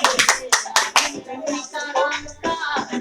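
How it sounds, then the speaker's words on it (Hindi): A crowd claps at a birthday cake cutting, with sharp, loud, irregular claps close by that fade into a busier mix of hands and voices. "हाँ ताली बजा गया है,"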